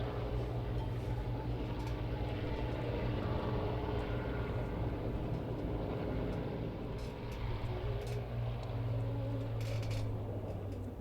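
An Avro Vulcan jet bomber performs a display at the Waddington airshow, heard as a steady, moderately distant engine roar that rumbles on for the whole stretch without voices.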